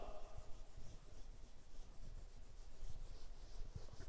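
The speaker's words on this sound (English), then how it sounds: "I'm just telling, so I will rub the board first." A board being rubbed clean in a classroom, a steady scraping, wiping sound continuing throughout, fairly close and moderately quiet, with no talking.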